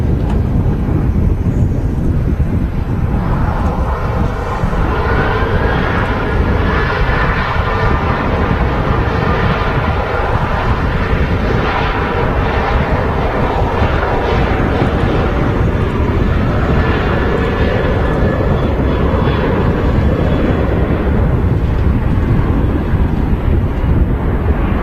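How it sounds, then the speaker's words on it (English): A Ryanair airliner bound for Dublin departs Manchester Airport on a windy day with a long, loud, broad jet roar that swells and holds throughout, heavy wind buffeting the microphone and no talking. "the Ryanair departing off to Dublin"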